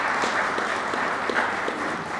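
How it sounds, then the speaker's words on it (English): Audience applause at a Kentucky manufacturing funding announcement, steady dense clapping from a room of people, fairly loud and sustained with no talk over it. "we can do a round of applause for that"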